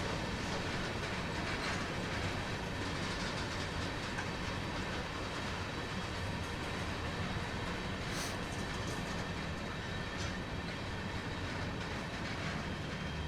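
A CSX heavy haul freight train rolls slowly at about 8 to 9 miles per hour in winter in Train Sim World, giving a steady, dense rumble with faint clickety-clack and occasional wheel squeal, continuous and unbroken.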